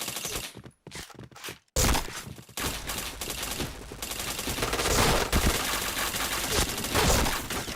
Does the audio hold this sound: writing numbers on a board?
no